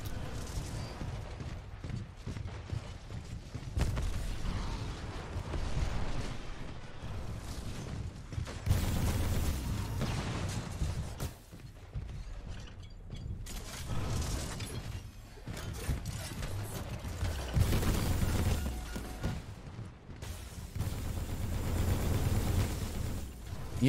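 Gunfire in the video game Titanfall 2 while shooting stalkers: dense bursts of shots and impacts over a continuous rumbling game soundscape, with occasional louder blasts.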